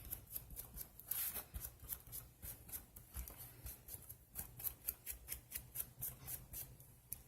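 A glue book cover's edges get distressed by hand, a faint run of quick repeated scraping strokes in an even rhythm, heard close and alone.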